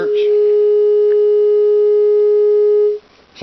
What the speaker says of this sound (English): There's 400 hertz.